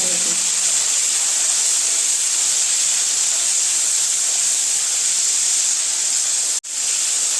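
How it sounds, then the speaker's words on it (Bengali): Jute leaves frying in oil with salt and turmeric, a loud, steady hiss of sizzling that cuts out sharply near the end. "অল্প একটু লবণ, হলুদ দিয়ে ভেজে নিব"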